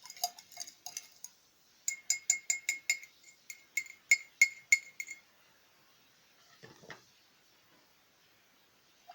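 A solution of silver contacts stirred in a glass vessel, with a rod clinking rapidly and repeatedly against the glass in bright, close ticks that fall into two runs, then one duller scrape before it goes quiet.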